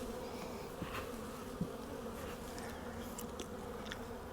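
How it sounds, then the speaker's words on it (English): Steady low hum of honeybees buzzing inside a hive in late winter, a continuous drone with a few faint clicks and knocks, no voices. "There's bees down here."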